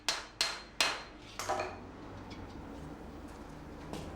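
A craftsman hand-hammering copper sheet into a conical cauldron, three sharp ringing metallic blows in quick succession, then two more, followed by faint taps and a final strike, close and loud.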